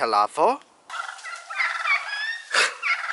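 Several turkeys gobble in bursts, loud rattling calls overlapping near and slightly farther off, with brief pauses between.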